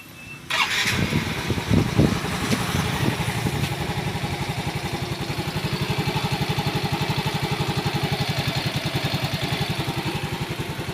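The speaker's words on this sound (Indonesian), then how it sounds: "ada bunyi berisik di area mesin" A Yamaha X Ride 125 motorcycle engine starts with a sputter and settles into a loud, steady idle with a rough, rattling clatter running through it.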